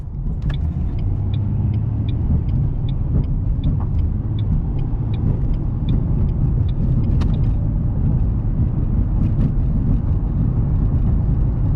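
A 2007 Ford Mustang V6 driving on the road, a steady low engine drone blended with rumbling road and tire noise, loud and continuous inside the cabin, with faint light clicks on top.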